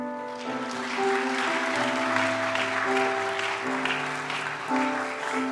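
A church congregation at Sunday worship claps in congratulation for graduates of a one-to-one discipleship course, even sustained applause under a held musical accompaniment.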